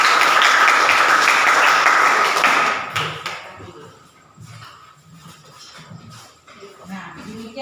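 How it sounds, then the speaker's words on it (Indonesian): A classroom applauds group 5 after their presentation: dense clapping for about three seconds, then it thins and stops while scattered taps and bumps follow. "Tepuk tangan dulu untuk kelompok 5."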